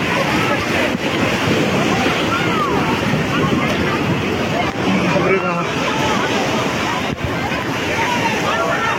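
Waves breaking on the crowded beach at Puri give a continuous roar of surf and wind noise, with people talking and calling out over it the whole time.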